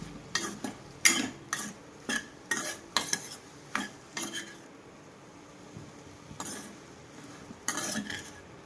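Soyabean vadi tossed with a spoonful of oil and salt in a kadai: a quick run of rhythmic scraping strokes over a faint sizzle, a pause, then a few more stirs, with no speech.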